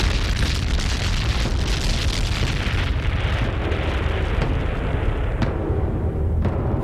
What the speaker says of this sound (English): Scientists decide to demonstrate a new weapon, the nuclear fusion bomb.